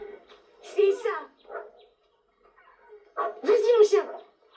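A pet dog gives short yips and barks in two bursts while playing fetch, close by, with a person talking to it in French in between.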